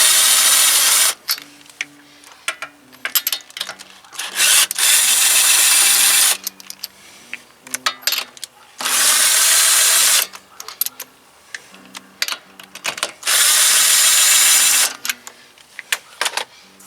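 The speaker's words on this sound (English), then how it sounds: "I'm going to use a electric drill to take those bolts off, or excuse me, those nuts off" An electric drill spins off the wheel lug nuts of a 1999 Honda Civic in loud, whirring bursts of a few seconds each, separated by quieter clicks and clatter of nuts and tools.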